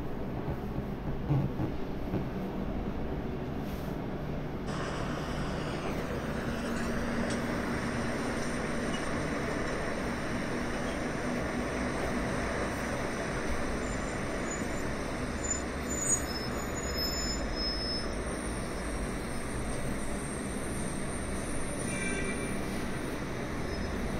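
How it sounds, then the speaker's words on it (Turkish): Slow traffic jam on a Black Sea coastal road with buses and trucks: a steady, continuous rumble of engines and passing vehicles, with faint higher squeals and no talk. "Arkadaşlar biz trafiğe kaldık, trafiğe takıldık."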